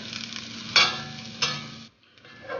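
Onion frying in vegetable oil in a skillet, a steady soft sizzle with a low hum and two brief louder scrapes of stirring, fading out near the end.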